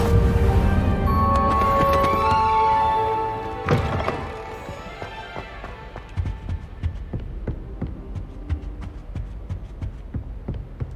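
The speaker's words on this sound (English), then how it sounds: "Incendio." An Incendio fire spell is cast in Hogwarts Legacy: a sharp burst lands over a droning background, followed by a trail of scattered crackling hits that fade out.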